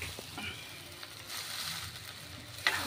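Soaked sago pearls for sabudana khichdi are stirred in a hot pan, giving a quiet, soft sizzle with light scraping and a few faint spoon clinks, one sharper knock near the end.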